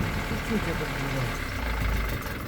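A diesel car engine that stalls when the accelerator is released runs evenly with the throttle held, giving a steady, close rumble with faint voices nearby.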